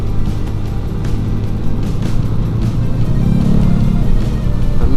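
Motorcycles, a Kawasaki KLX and a Yamaha Mio, ridden at full throttle on streets in Makassar, give a steady loud engine roar with wind rush throughout, close and continuous with no talk.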